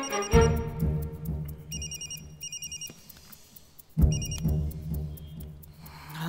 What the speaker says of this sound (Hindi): चतुर का फोन था, रिमेम्बर हिम